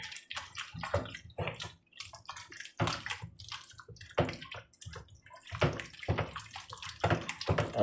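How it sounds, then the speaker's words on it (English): A spoon stirs a pot of chicken and dumplings, making repeated wet sloshing and scraping strokes in irregular bursts close to the microphone, with no talking. "let's give it a stir"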